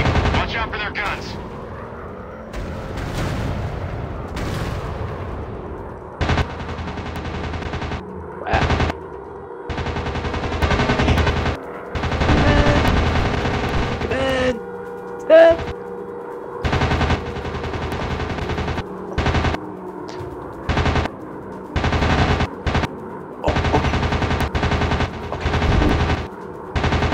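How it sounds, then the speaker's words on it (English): Enemy bomber guns firing in a WW2 air combat video game: loud, repeated machine-gun bursts in choppy rapid volleys with brief gaps, over a steady engine drone and close game effects. "Enemy bombers approaching. Watch out for their guns."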